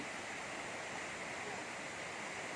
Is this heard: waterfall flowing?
yes